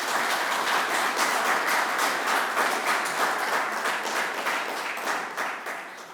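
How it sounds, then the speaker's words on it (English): A large audience claps in sustained, dense applause to welcome author Joshua Pollock, steady and fairly loud throughout before tapering slightly at the end, with no talking over it. "So can we welcome him with a big round of applause"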